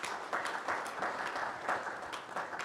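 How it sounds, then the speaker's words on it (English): Brief, modest applause from a conference audience after an expert panel talk, with a soft, steady patter of claps and no voices on top. "Give her a round of applause."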